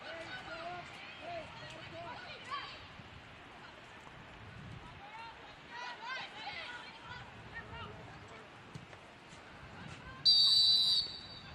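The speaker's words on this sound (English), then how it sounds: "Whistle as Herber knocked down by Mackay." A referee's whistle sounds a short, sharp, loud blast near the end at a women's college soccer match, following crowd murmur, distant shouts and players' chatter across the field.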